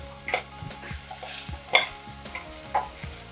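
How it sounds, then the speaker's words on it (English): Hot French beans are stirred into fried onion in a pan, giving a few distinct scraping, clattering stirs over a soft sizzle, close by and fairly quiet. "all you need to do is put them in to mix with the onion"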